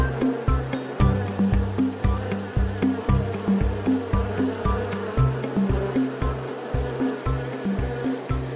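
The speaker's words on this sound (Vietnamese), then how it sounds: "Con ong." Buzzing bee heard over a loud rhythmic pulsing background that repeats about twice per second, with watery wash underneath; the insect hum stays constant while the pulses dominate.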